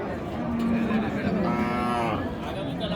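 Cattle moo at a busy cattle market, one drawn-out low moo standing out clearly near the microphone over a murmuring crowd.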